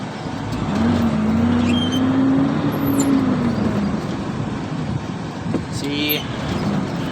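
A Hino 260 truck engine hums steadily, its pitch rising as it pulls through the gears, heard from inside the cab with road noise around it and someone talking over it.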